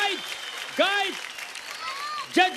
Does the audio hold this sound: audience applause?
yes